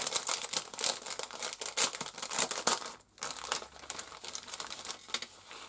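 A package is unwrapped by hand, paper crinkling and rustling loudly up close in steady bursts with a brief pause midway, no voices.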